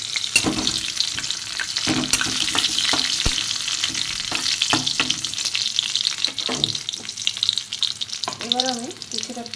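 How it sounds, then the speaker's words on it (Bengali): Crushed garlic fries in a pan with a steady sizzle, broken by frequent scraping and stirring knocks from a utensil, and a brief bit of splashing or running water near the end. "এতে আমি রসুন থেতো করা দিয়ে দেবো। একটু ভাজা হোক, একটু ভাজা হোক রসুনটা"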